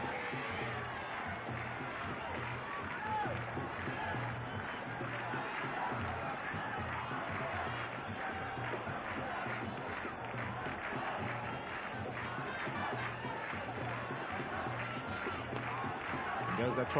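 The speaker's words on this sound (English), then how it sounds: "So the crowd's absolutely elated." A large stadium crowd at a one-day international cricket match in Kandy, Sri Lanka, roars and cheers steadily after a boundary by Sri Lanka against Kenya, a dense, sustained wash of noise with commentary speech running over it.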